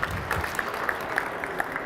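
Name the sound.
audience applause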